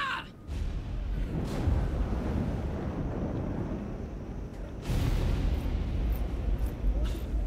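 A musket or cannon volley in Flintlock: The Siege of Dawn sounds as heavy, rumbling blasts over a windy, noisy battlefield bed, with a second loud surge of firing near the end.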